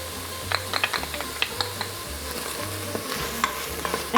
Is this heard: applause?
no